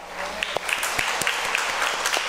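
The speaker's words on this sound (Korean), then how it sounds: "네, 박수 한번 해주세요." Congregation clapping during a worship service at Suwon Onnuri Church, a sustained round of applause with distinct sharp individual claps standing out, close and moderately loud.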